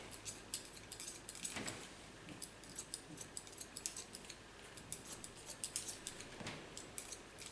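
Scissors snip through hair while cutting a short pixie style, a quick run of crisp, close metallic clicks repeating steadily with no talk.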